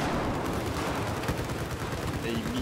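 Battlefield 4 gunfire, with an XM25 and an L85A2 in play, rattles as dense continuous shots in a noisy combat mix. A voice talks faintly over it.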